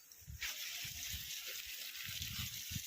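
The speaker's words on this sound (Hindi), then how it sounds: "इसमें डाल रहा हूँ आलू में पानी, क्योंकि बारिश तो हो नहीं रही है, तो आलू में पानी ही डालना पड़ेगा, वो भी पैंप वाला" Pumped water gushing steadily onto a hillside potato field, a continuous hiss with soft low thumps and sloshing underneath, close and moderately loud throughout.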